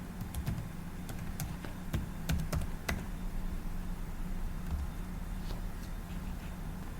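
A password is typed on a computer keyboard in a quick cluster of light key clicks, then a few scattered taps over a steady low room hum.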